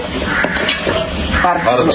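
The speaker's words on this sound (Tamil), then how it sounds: "நம்ம எண்ணெயில போட்டு நல்லா இப்ப வதக்கிக்கணும்" Ingredients sizzling in hot oil as they are stirred in a pan, a steady crackle with scraping and clinks of a utensil close by.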